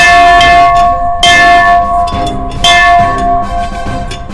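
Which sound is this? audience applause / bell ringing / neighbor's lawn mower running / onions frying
bell ringing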